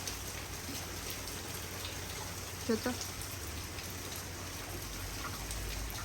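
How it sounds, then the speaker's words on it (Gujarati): Rain falling steadily outside a house in London, a soft continuous patter heard at a distance with a brief clatter near the middle and a voice speaking a few words. "વરસાદ આવે છે"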